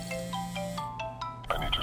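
A mobile phone ringing in the video game Crime Scene Cleaner, a repeating electronic ringtone of short melodic tones, clear and close, cut off near the end by other game sounds.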